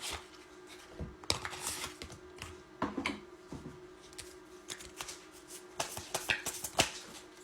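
A deck of angel cards shuffled by hand, with quick bursts of riffling and flicking cards, irregular and close, quiet overall with small gaps between shuffles.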